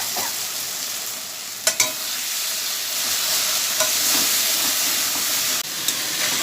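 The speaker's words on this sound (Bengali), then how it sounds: "আলু দিয়ে কষানো হচ্ছে।" Potatoes sauté in a hot pan, a dense continuous sizzle and hiss with a few sharp scrapes of stirring, steady and close with no voices.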